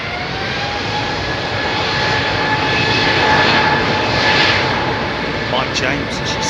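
A seven-year-old Qatar Airways Boeing 777 rolls along the runway at London Heathrow in the evening, its jet engines a loud, steady roar with a swelling whine that builds toward the middle and holds, with a voice talking over it.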